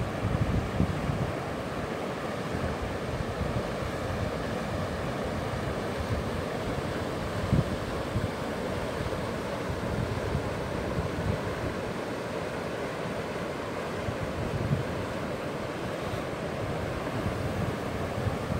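High water rushing over a spillway by an old mill, a constant broad roar that holds steady throughout with some wind buffeting the microphone.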